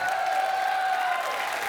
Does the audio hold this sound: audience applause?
yes